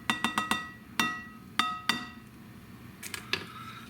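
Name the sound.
egg cracked with an easy egg cracker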